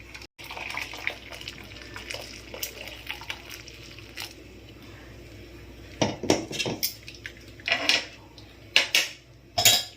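A homemade two-ingredient Eid sweet is tipped into a second vessel and poured through a strainer, with close metal utensil clinks, scraping and soft pouring. Sparse at first, then clustered clatters toward the end, with no voices.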